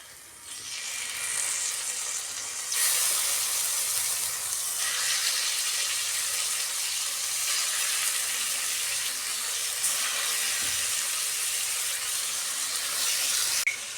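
Chicken kebab sizzles on a buttered tawa griddle: a steady, loud frying hiss that swells sharply a few seconds in and carries on evenly, with no voices.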